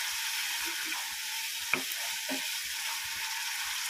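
Fish fries in a pan with a continuous sizzle, broken by soft scraping and clicking stirs and one sharp knock partway through, with no speech.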